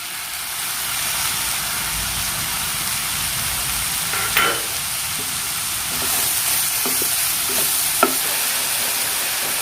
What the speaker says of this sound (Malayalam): ഇനി ഞാൻ തക്കാളി ചേർക്കുകയാണ്.